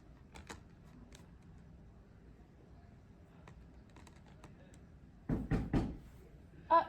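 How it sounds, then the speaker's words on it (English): A knock on a classroom door, with a quick cluster of three or four sharp raps near the end of a quiet stretch, then one more thump after a short pause. "somebody is knocking on Mr. Bowler's door."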